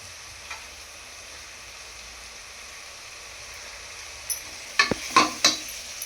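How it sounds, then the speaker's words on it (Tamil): Beans and carrots sautéing in a pan for veg biryani, with a faint low sizzle for most of the time, then a short burst of spatula scrapes and clinks near the end. "பீன்ஸ், கேரட் நல்லா வதங்கட்டுங்க."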